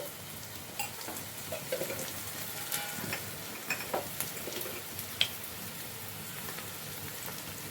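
Spices such as turmeric, chili powder and coriander powder stirred into dry fish curry in a pan, giving a soft continuous scraping and sizzling texture with scattered light clicks of the spoon, close and steady, with no talking.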